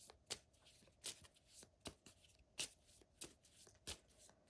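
Playing cards being shuffled in quick repeated riffles, crisp fluttering bursts close by, about a dozen in a steady rhythm.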